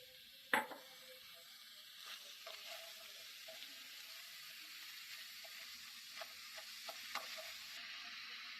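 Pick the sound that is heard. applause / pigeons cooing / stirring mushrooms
stirring mushrooms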